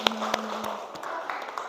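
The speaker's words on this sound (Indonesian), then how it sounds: "Tepuk tangan untuk kelompok 1 dan 2" A few scattered hand claps ring out in a classroom for student groups, sparse and uneven rather than a full ovation, with room noise between them.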